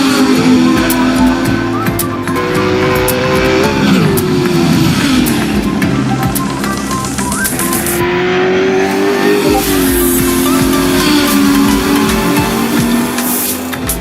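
Race cars at the Westbank circuit in a South African club race, including an Audi, roaring past continuously with loud engine drone, rising and falling revs, gear changes and occasional tyre squeal, with no talk.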